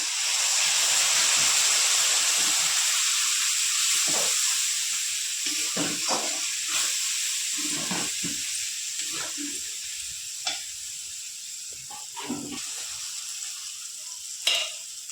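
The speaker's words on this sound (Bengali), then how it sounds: "একটু জল ব্যবহার করব মশলা কষানোটা তাহলে ভালো হবে তলায় লেগে যাবে না" Chicken curry spices, cumin, chilli and turmeric powder, sizzling in a pan with a little water, a loud hiss at first that gradually softens, broken by stirring scrapes and occasional pops.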